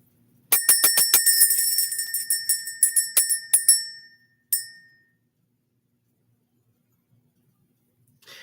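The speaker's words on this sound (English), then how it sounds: "Let's ring the bell." A small metal bell rung to clear energy, struck in a quick run of bright, ringing dings that slowly thin out, followed by one last lone strike that fades into silence.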